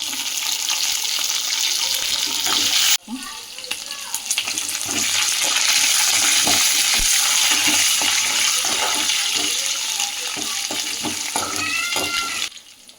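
Seasonings for poha upma fry loudly in a pan with a bright, continuous crackle and sizzle. Stirring scrapes and clinks break in, and a brief drop in the hiss comes near the start.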